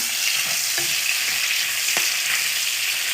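Sausages and bacon fry in a pan, giving a steady, close sizzle with occasional pops and spatters and no talking.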